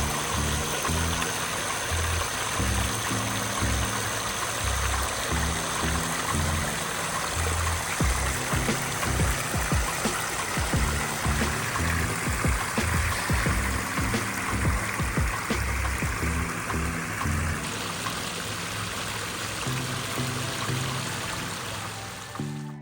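Water from a backyard pond waterfall pours and splashes steadily, a loud, continuous rushing close by that runs unbroken throughout, with a low rhythmic thumping mixed in beneath the flow.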